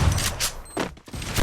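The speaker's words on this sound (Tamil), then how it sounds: "நான் இங்க இருந்து கிரனேட் தூக்கி போறேன்" Gunfire and a thrown grenade in the mobile shooter Free Fire: dense, loud bursts of shots with a sharp blast near the middle, then a short gap before more firing.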